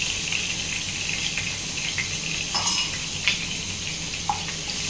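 Chopped garlic frying in a pan for a peanut fish chilli dish, a steady close sizzle with soft crackles and a few light pops, no voices over it.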